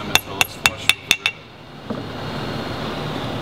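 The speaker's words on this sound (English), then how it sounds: "Insert the powder plug into the hole and tap on the stem." A tool taps six times in quick succession, knocking a powder plug into the stem of a magnetic particle brake during a rebuild. The sharp metallic clinks come close and crisp, then give way to a quiet hiss.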